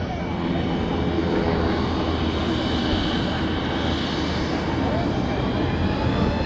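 An F-16 Viper fighter jet flying an aerobatic demonstration at Travis AFB, its engine a loud, steady broadband roar that holds throughout, with commentary voices faint beneath it.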